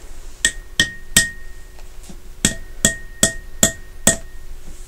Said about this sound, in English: then hammer it in the rest of the way using the bolt head